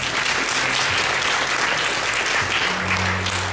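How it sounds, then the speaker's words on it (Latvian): Concert audience giving loud, dense applause across the hall, a sustained roar of clapping with some faint tonal sounds underneath and no voices. "Aplausi, Norbert!"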